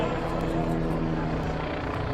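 Helicopter heard from a played skydiving video, a loud, steady rotor and engine roar with a constant low hum filling the whole stretch without letup.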